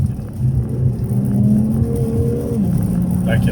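A 2018 Infiniti Q50 Red Sport 400 pulls hard from inside the cabin with the driver shifting by paddle, the engine drone rising steadily and loudly with a pitch change near the end.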